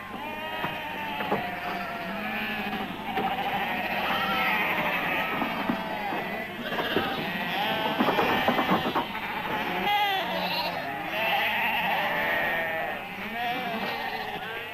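Lambs bleat loudly and repeatedly at close range during marking and castration on a sheep farm, overlapping cries rising and falling with many animals calling at once.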